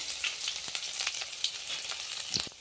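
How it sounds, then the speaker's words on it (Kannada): Garlic frying in hot oil for a rice dish, a steady soft sizzle with faint crackles throughout, close and moderately quiet, no voices. "ನೋಡ್ರಿ, ಬೆಳ್ಳುಳ್ಳಿ ಹಾಕ್ತಿದ್ದೀನಿ"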